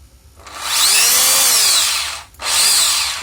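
An electric drill converted to two-speed, reversible operation whirs up to a steady high-pitched spin, stops briefly, then revs up again, loud and close with no talking.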